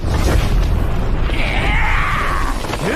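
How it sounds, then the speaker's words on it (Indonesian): Bodies burst into a mist of blood in an anime fight, a loud booming explosive rumble followed by whooshing swept tones and a rising sweep at the end. "Lagi-lagi 2 tubuh praktisi elit itu meledak menjadi kabut darah."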